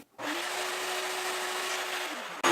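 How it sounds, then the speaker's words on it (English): A vacuum cleaner runs steadily over a vinyl record cleaning mat, a loud continuous whooshing drone with a constant motor whine that starts abruptly and cuts off just before the end, with no talking. "I'm going to go ahead and vacuum just this mat."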